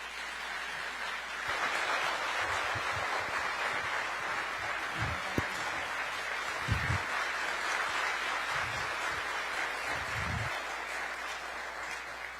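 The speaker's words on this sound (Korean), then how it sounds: "박수로 모시겠습니다." An audience at a KAI event applauds to welcome Prime Minister Kim Min-seok, a long, even wash of clapping broken by occasional low thumps.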